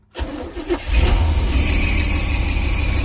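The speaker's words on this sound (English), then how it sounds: "Let's try and start it back up, a hot start without pumping carb" The engine of a 1972 Barth motorhome hot-starts with no carburetor pumping: a brief cranking whir catches within a second, revs up and settles into a steady, rumbling idle close by.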